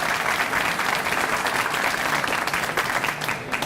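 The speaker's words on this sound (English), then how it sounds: "Give yourselves a round of applause for that." An audience gathered on a patio for a school principal's event gives sustained, dense applause, loud and even throughout.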